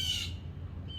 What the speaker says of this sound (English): the birds you hear in the background are the ones responsible for covering my black vehicle in white acidic bird shit